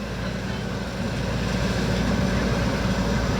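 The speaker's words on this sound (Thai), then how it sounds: "เดนนิวเจ้าช้าง Harvester ครับ 2021 เออเจ้าช้างปี 64 ครับ ตัวท็อปครับเครื่องยนต์คัมมินครับ" Steady low drone of a new 2021 Jao Chang corn harvester with a Cummins engine, running continuously and fairly loud with no break in the rumble.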